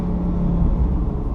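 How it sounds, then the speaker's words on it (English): Bentley GT3-R exhaust gives a loud, deep rumble that swells slightly midway and then settles, heard up close. "The exhaust system sounds magnificent."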